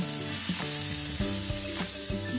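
Pointed gourd (potol) frying in a pan, a steady close sizzle with intermittent crackling bursts as the pieces cook, with no talk over it.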